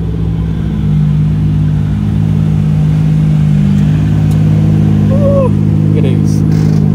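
A right-hand-drive station wagon at a car event idles with a steady low engine rumble that holds loud and close, while someone talks over it.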